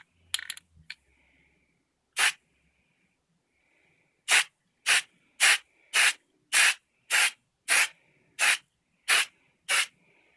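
Short hissing bursts of an aerosol spray paint can on a mask, one early then a quick run of about ten evenly spaced sprays, close up with quiet gaps.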